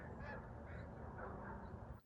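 Geese honking as they migrate through in the fall at a campsite: a faint, distant flock calling in repeated overlapping honks, with no talk.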